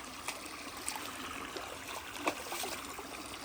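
A cold mountain stream rushes and trickles steadily, a close, even wash of water sound with small splashes and gurgles, without talk.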